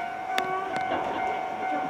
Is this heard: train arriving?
yes